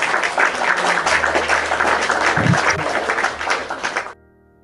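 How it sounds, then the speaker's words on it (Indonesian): Applause for Asian Boruparna during an Indonesian Christian livestream, a sustained wash of clapping from many hands at a steady, fairly loud level for about four seconds, then stopping sharply. "Tepuk tangan buat Asian Boruparna yang cantik dan manis."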